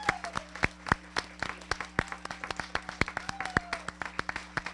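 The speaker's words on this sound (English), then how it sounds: "Help me give them the largest round of applause you could ever give." Students applaud school employees of the year at a migrant education awards ceremony, producing a thin, steady patter of individual claps from a modest group, fairly faint and without voices.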